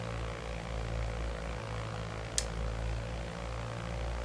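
Cessna 172 Skyhawk engine running on the ground during a magneto check, a steady low propeller drone with one brief sharp click midway.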